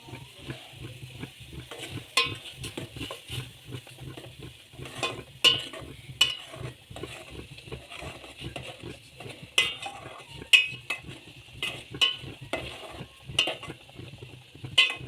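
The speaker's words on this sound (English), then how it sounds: "And then our minced meat is boiling." Minced meat boiling in a pot while noodles cook, heard as a soft bubbling hiss with scattered sharp clinks and knocks of a utensil against the pot, fairly quiet throughout.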